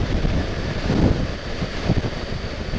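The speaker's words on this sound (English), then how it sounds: "that wind's up again as well." Steady outdoor wind buffets and rumbles across the microphone for about three seconds, a constant noisy roar with gusty swells and no talking.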